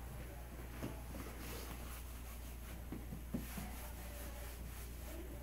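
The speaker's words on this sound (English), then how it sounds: "she will wipe down the patient armrests" Faint rubbing and wiping of patient armrests in a dental operatory during pre-appointment infection control, with soft scattered strokes and light taps over a low steady hum.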